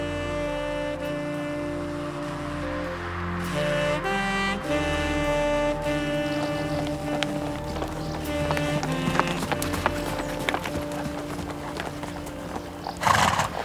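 Horses on the lunge move through walk, trot and gallop, hooves clip-clopping in a steady rhythm with an occasional whinny, set against a constant mechanical hum.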